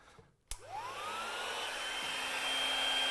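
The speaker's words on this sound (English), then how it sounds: "Using the correct equipment, Barry, with our heat gun and our nozzle" A heat gun fitted with a nozzle and deflector clicks on and blows a steady rising whoosh, used to shrink heat-shrink tubing onto a cable; close and alone.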